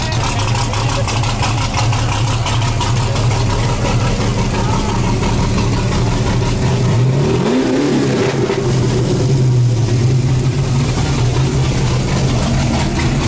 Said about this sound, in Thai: นี่เป็นเสียงเครื่อง V8 นะครับ